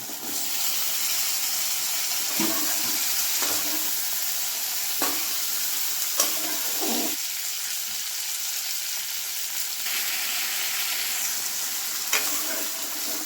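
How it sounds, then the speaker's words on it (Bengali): Potatoes fry in a hot pan for a curry, giving a steady, moderately loud sizzle and hiss with occasional clicks and stirring knocks scattered across the stretch, with no voices. "আমি এখন আলুটা দিয়ে দিলাম।"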